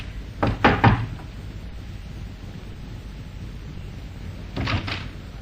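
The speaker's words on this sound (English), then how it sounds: "But instead, he knocked." Two short bursts of knocking on a door, a quick cluster of raps followed by a pause and another set, sharp and close against a quiet background, in a 1952 radio crime drama.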